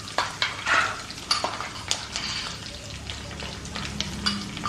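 Crushed ginger, garlic and black pepper with curry leaves fry in a hot pan for a soya chunks fry, a steady sizzle broken by several sharp scrapes and clinks of a spoon stirring against the metal, close and fairly loud with no talking.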